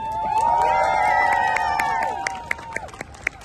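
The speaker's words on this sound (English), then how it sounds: "let's give him a round of applause today" Audience at a speech event welcomes the speaker with a burst of applause and cheering, a crowd swell with whistle-like tones that thins into scattered claps near the end.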